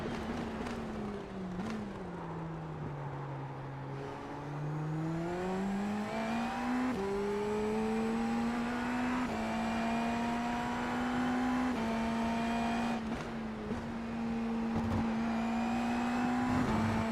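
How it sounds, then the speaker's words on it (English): An IndyNXT race car engine on board at Mt. Fuji in the iRacing game, the Ascension Racing car's tone whining steadily, dipping and climbing through gear changes with brief drops, loud and continuous with no talk. "Take a little on board with the Ascension Racing car for a lap."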